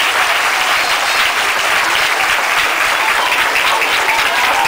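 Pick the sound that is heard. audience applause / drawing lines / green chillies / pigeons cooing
audience applause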